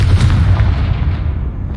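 A Confringo explosion spell cast in Hogwarts Legacy, one loud, deep, close blast that rumbles and fades over about two seconds.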